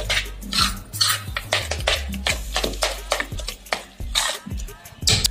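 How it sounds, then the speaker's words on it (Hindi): Moong dal paste beaten with a spoon in a bowl: a steady run of close, rapid clinking and scraping strokes, loud and rhythmic throughout, with no talk. "इसे हम चम्मच से अच्छे से और फेंटेंगे।"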